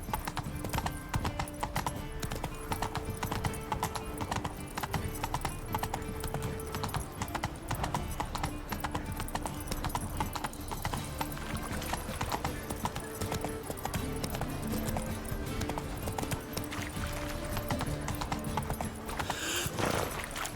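Roach, the horse in The Witcher 3, walks with a steady, close rhythm of hoof clip-clops over a continuous layer of ambient game sound and music.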